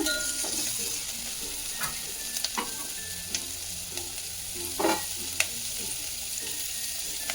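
Chopped onions fry over high flame in a pan (kadai), with a continuous close sizzle broken by scattered spatula clinks and scrapes against the metal. Nobody talks.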